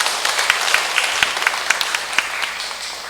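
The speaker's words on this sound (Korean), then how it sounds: "우리 회원님들 위해서 큰 박수 부탁드리겠습니다" Applause from club members at a monthly meeting, a short burst of many hands clapping with a few sharper individual claps standing out, moderately close and fading slightly toward the end.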